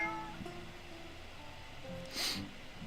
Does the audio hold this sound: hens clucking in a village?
no